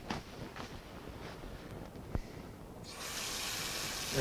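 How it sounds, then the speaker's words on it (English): Water pours and sprays over a jacket, starting as faint dripping and trickles, then a steady loud hiss of flowing water as the garment is flooded. "Now I'm going to take the jacket and I'm going to flood it."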